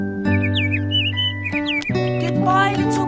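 A small bird chirps in bright, repeated twittering phrases over sustained background music, loud and close throughout.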